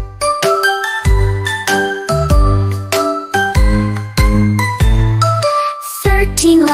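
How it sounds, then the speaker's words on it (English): Bright bell-like chimes from a children's counting song ring out in quick melodic strikes, each note clear and ringing over bouncy backing music, loud and close with no voices. "12 clanging bells,"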